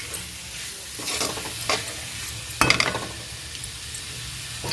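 A spatula stirs and scrapes a dried fish mixture around a frying pan, with a continuous sizzle beneath several distinct scraping strokes and one louder clatter near the end, close up.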